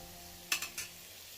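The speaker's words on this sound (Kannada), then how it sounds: "ಸೊ ನನಗೆ ಅಷ್ಟು ಇಷ್ಟ ಆಗಲ್ಲ, ಸೊ ನಾನು ಹಂಗೆ ಫ್ರೈ ಮಾಡ್ಕೊತಾ ಇದ್ದೀನಿ" A radish (mooli) ghee roast fries in a pan, giving a few quick scraping stirs over a soft, steady background sizzle, fairly close and brief.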